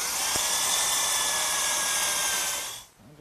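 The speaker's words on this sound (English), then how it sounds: "at that location, I'm going to drill a quarter inch hole about a half inch deep" A power drill whines steadily as it bores a quarter-inch hole into a wooden chair table blank in a woodshop. The high-pitched drone is close and holds for almost three seconds, then winds down to quiet, with no talking.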